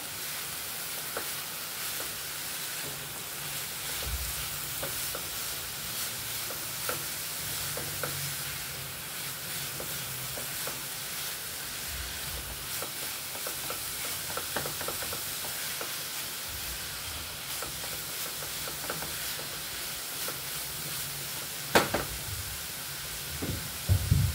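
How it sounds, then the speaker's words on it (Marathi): Fresh coconut filling is stirred in a pan over a low flame, making a continuous gentle frying hiss with faint scraping and a few light knocks toward the end, close by with no voices. "मंद गॅसवरती, बारीक गॅसवरती सारण परतायचं आहे आपल्याला."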